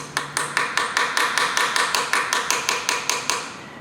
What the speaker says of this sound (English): we're just going to tap that in with a hammer